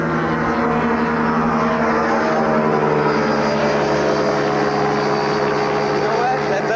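A propeller airplane engine drones during a skydiving jump, a loud, steady hum close at hand that never lets up.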